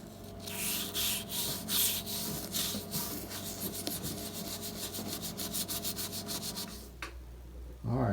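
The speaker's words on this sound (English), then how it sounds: "It strips the finish off, and you can see that nice wood grain that's left." Acetone rubbed by hand across the old finish of a 1939 Zenith Chairside radio cabinet, model 6S340, gives steady rhythmic scrubbing strokes, close and loud, ending abruptly followed by a short clunk.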